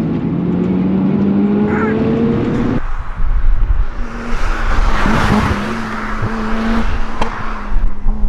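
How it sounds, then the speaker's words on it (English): A Mazda RX7 FD sports car driving, its engine a loud steady drone with a rising tone that drops at a shift, then rougher, gritty engine noise and road rumble close by. "we are back from our gentle drive out in the Mazda RX7"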